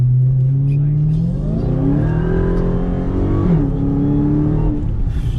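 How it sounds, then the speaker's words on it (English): A Dodge Charger SRT Hellcat accelerates hard on the road, its engine note climbing in pitch through a sustained loud rev, dropping briefly at a shift and then rising again. Faint speech sits underneath. "I figured like might as well Give a little gas out here."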